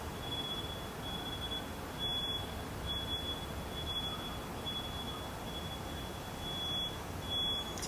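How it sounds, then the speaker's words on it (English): A steady high electronic tone with a few short, sharp beeps scattered through it over a quiet background hiss. "Is that beeping gonna stop?"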